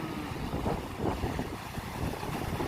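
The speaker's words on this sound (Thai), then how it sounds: "เสียงคลื่นกระทบฝั่ง" Waves washing against the shore at a Prachuap Khiri Khan river-mouth beach, heard as a steady broadband rush with wind noise buffeting the microphone, rising and falling gently throughout.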